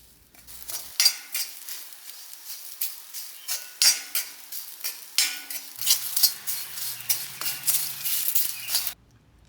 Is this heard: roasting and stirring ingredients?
yes